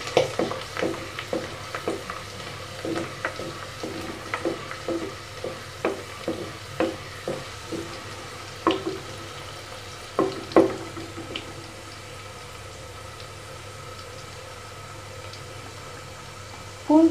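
Garlic sautéing in a pan for a salmon fish kulambu, a steady low sizzle broken by repeated scraping stirs of a spoon against the pan at an irregular rhythm, close by with no talk.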